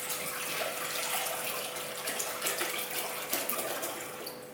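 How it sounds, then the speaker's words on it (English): Tap water runs steadily into a pan on a kitchen hob, a close, continuous splashing stream with a faint rising tone as it fills. "Pan on, water in there."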